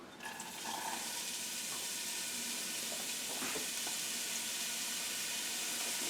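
Leek frying in three spoonfuls of olive oil in a pot over medium heat for a vegan mushroom and chickpea tourtière, a steady close hiss and sizzle running unbroken throughout with faint clinks, no talking.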